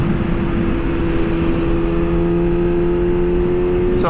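A Suzuki GSX-S 750 motorcycle, tuned with a Power Commander 5, runs with a loud, steady, close-up engine drone holding a sustained pitch throughout, with no talking.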